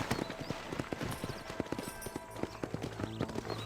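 Rapid, close hoofbeats of a horse galloping in Red Dead Redemption, a brisk irregular clatter of clip-clops over quiet background ambience, with a faint whinny.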